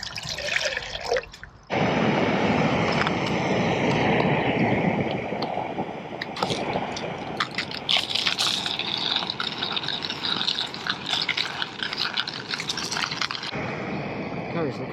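Water heating for camping coffee on a portable stove, a steady broadband rushing roar that starts abruptly after a short quiet moment and continues loud and unbroken throughout.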